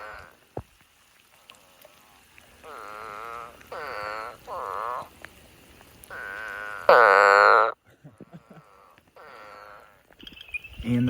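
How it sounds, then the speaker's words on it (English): A small leopard frog calls at night in a series of pulsed, snoring croaks, with one louder, harsher burst near the middle and quieter calls between, fairly close against a still background. "And the first leopard frog of the night."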